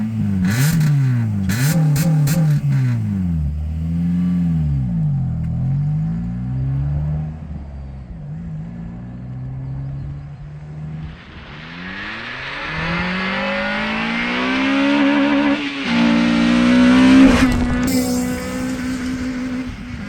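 A Honda Civic Type-R on a test drive, its engine revving up and down through gear changes with rising and falling pitch, loud and close from onboard, later joined by broadband road and wind roar.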